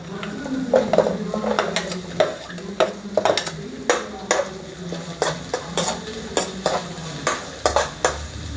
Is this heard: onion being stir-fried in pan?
yes